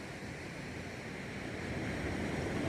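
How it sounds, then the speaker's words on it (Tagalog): Ocean surf washes onto a shore in a steady broad roar, swelling slightly louder toward the end, with some wind buffeting the microphone and no voices. "Ganda ng karagatan."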